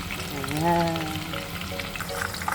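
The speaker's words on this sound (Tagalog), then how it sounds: "Ganyan po ang magprito ng lechon kawali." Lechon kawali pork belly deep-frying in oil, a steady close sizzle with a brief tonal squeak and scattered clinks over it, no talking.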